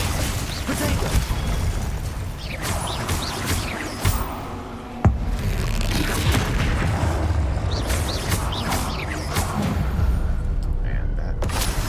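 Spell explosions and combat bursts while fighting a troll in Hogwarts Legacy, a loud, dense run of booms and impacts with one sharp hit standing out midway, continuous clatter throughout.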